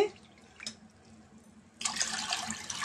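Two cups of water pour into a pan on the stove while vermicelli kesari is being made, a steady close splashing stream that starts after a quiet moment and continues to the end.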